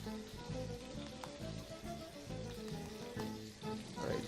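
Lamb kofta patties fry in a pan with a soft, steady sizzle and crackle, quiet and close, with faint scattered pops and clinks.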